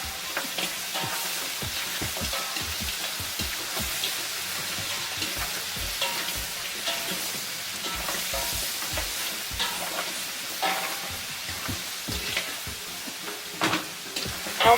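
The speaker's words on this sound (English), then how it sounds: "Stir fry the meat in hot oil." Bony lamb meat stir-fries in hot oil with a steady, close sizzle, broken by frequent scraping and clinking strokes of the stirring utensil against the pan throughout.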